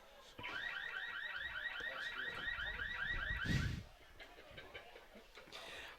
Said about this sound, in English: That's better than the car alarm sound effect up here in the press box.